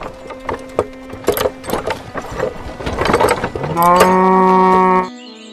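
A cow on a small farm gives a loud, close, sustained moo near the end, preceded by shorter lowing calls and clattering noises.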